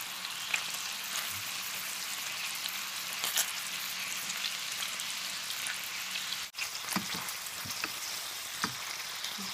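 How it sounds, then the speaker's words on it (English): Armenian meatballs, oval-shaped, fry and brown in a pan with a steady close sizzle and small popping crackles throughout, no voices. "Because the meatballs have been placed in the pan in a particular sequence, you can start to roll them over when they brown on one side"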